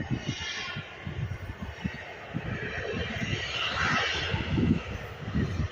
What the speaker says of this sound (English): it's KLM Boeing 737 taxiing down to the runway to begin its journey over to Amsterdam